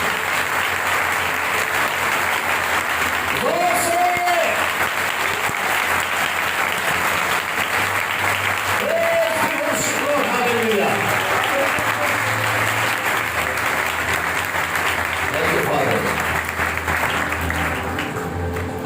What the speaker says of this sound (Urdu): زوردار تالیاں یسوع کے لیے